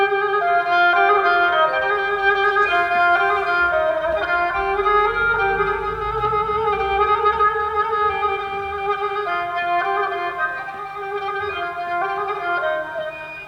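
A kemençe, a bowed string instrument, plays a sustained, wavering melody alone, notes sliding smoothly into one another at moderate volume.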